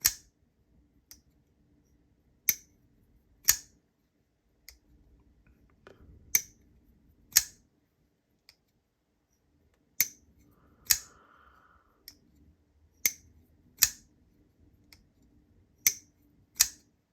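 A Chaves Liberation folding knife blade snaps open and shut on its detent, a series of crisp, close clicks spaced a second or two apart with faint handling noise between them.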